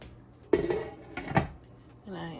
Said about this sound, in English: Just covering the pot to allow the cheese to melt.